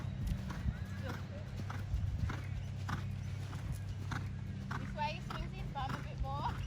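Hooves of a horse in dressage schooling at canter, a steady rhythmic clip-clop close by, with a few faint snorts and voices talking over the hoofbeats.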